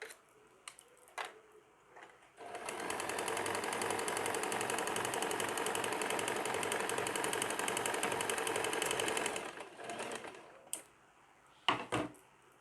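A sewing machine stitches the seat seam of an extra-large night pajama in one steady, fast, close run of about seven seconds, framed by brief handling clicks and rustles before and after.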